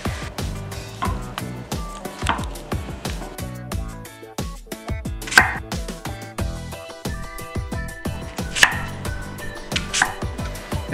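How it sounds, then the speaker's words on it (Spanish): A knife chops fruit for a fruit kuchen on a cutting board in quick, steady strokes, each cut a sharp, close knock, with no talking. "empezamos a cortar la fruta"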